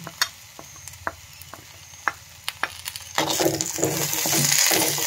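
A spoon scrapes and taps on a pan holding wilted green chillies for pickle, with sparse sharp clicks, then half a teaspoon of mustard seeds drops into hot oil and a louder crackling sizzle builds and keeps going, with no one speaking.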